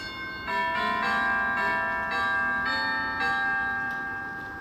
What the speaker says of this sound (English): Ding dong. Somebody is at the front door.